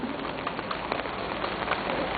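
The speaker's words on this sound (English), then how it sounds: "It is raining." Steady rain falls outdoors at a political rally, a continuous dense patter of drops on surfaces with no voices heard.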